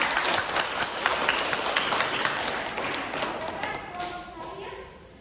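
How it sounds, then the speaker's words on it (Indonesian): A classroom group claps for the second group after a microteaching presentation, a dense, close patter of many hands that thins and fades toward the end. "Beri aplaus untuk kelompok 2"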